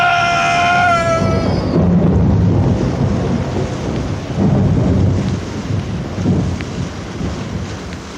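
Thunderstorm sound effect in a 1970s audio drama of 20,000 Leagues Under the Sea: loud, sustained rumbling thunder with heavy rain and wind, swelling in rolling bursts after a brief tonal musical note at the start.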